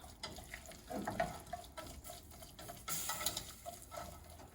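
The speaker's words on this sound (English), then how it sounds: "I will take a whisk and then start mixing it all." A whisk works chopped eggplant into flour and butter in a pan, making a quiet, uneven scraping and swishing with a soft hiss and a brighter burst near the end.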